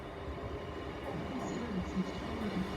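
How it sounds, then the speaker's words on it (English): Train at Salford Crescent station, a steady low rumble of a passing or idling rail vehicle with faint squealing tones, heard fairly close with no talk. "this is our next train to Morley, at least"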